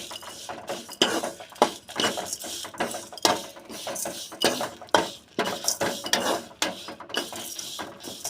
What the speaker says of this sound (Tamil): அப்படியே வெறும் வடைச்சட்டிலே வறுத்துக்கலாம்